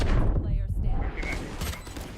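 Gunfire rattles out in a Valorant match at a VCT Pacific Kick-off watch party, with rapid bursts of shots mixed under excited voices.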